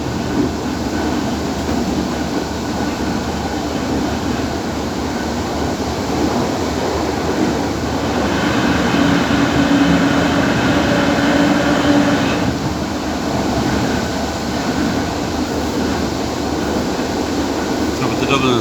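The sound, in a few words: Irish Rail DART train running through a tunnel near Bray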